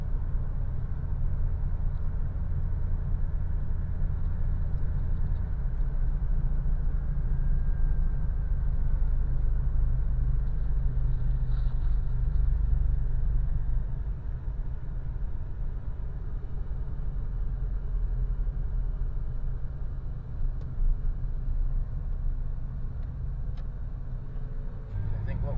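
A 1995 Chevy S-10 truck engine idles high from a vacuum leak at the check valve, a steady low rumbling drone heard from inside the cab, dipping slightly partway through, with speech at times over it.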